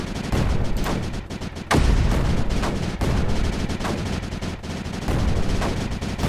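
Repeated heavy booms of mortar fire in the game Creeper World 4, with one sharp loud blast among steady rumbling gunfire.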